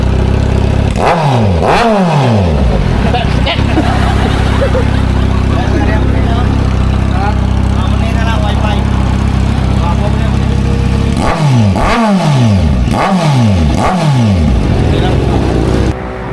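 A Kawasaki Z900 with a bottom pipe exhaust revs hard in repeated sharp blips, loud and close, rising and falling in quick bursts at the start and again near the end over a steady idle, with voices in the background.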